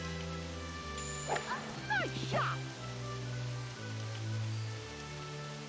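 Steady rain hiss from a rainy golf hole in Disney Golf on PS2, a continuous wash of falling rain under game music and sound effects, with a brief spoken remark over it.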